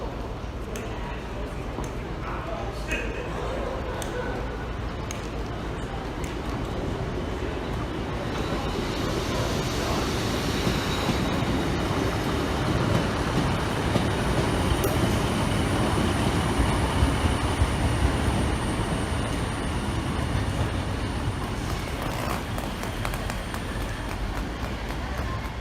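A class 150 passenger train on the service to Leeds via Barnsley runs past, a steady rumbling roar that builds and holds with wheel and engine noise throughout, fairly close and loud.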